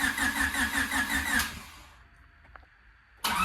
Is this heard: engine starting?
yes